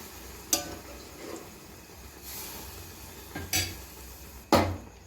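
Metal spoon scraping and clanking against a pot while stirring fish curry with tamarind, a few sharp knocks spaced a second or so apart over a soft, low background hum.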